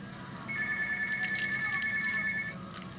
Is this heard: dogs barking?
no